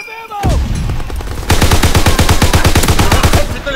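Call of Duty WWII gameplay gunfire: a single loud shot, then a fast, even burst of automatic fire rattling for about two seconds, close and loud.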